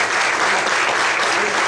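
A church congregation applauds at an evening service, a dense, steady burst of hand clapping filling the room with a faint voice underneath.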